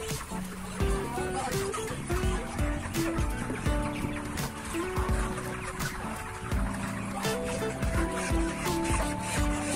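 Many broiler chickens cluck and chatter continuously at close range in a closed-house poultry barn, a dense overlapping flock with steady background noise.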